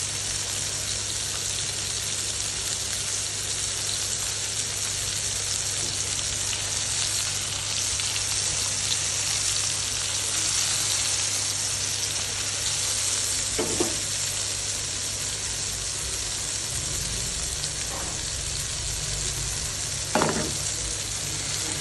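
Bhetki fish fillets fry in a pan with a continuous, even sizzle that stays loud and close throughout, broken by a few brief scraping or clattering touches near the end.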